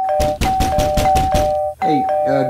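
A doorbell rings over and over in quick succession, loud and close, its repeated chimes pressed rapidly one after another with only brief gaps between them.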